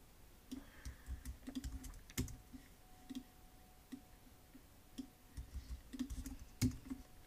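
Terminal commands typed on a Mac computer keyboard, heard as scattered soft key clicks in irregular short bursts with pauses between them, faint and close, with no talking.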